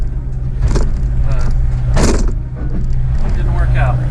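A skid steer works on a cleanup job, its engine a steady close low rumble with a few louder bursts as it scoops up a mess from a pile near concrete.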